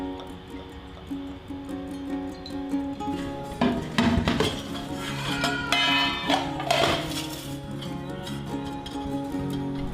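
Pots, pans and utensils clink and clatter in a home kitchen as soaked chola is set to boil, with busy overlapping metallic knocks peaking in the middle, over steady background hum.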